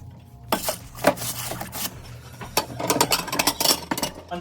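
Dirty rental plates with baked-on food are scraped clean, giving irregular bursts of scraping, clinking and clattering ceramic, some quick and sharp, others in busier clusters, close and fairly loud.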